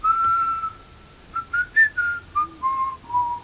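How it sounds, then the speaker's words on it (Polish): Plain human whistling with no effects: a long held note, a pause, then a phrase of short distinct notes stepping up and down, clear and close. "zwykłe gwizdanie to jest"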